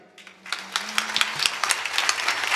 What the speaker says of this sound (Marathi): म्हणून जेवढी तुमच्याकडे ताकद असेल तेवढ्या ताकदीने खणखणीत टाळी वाजवा सगळ्यांनी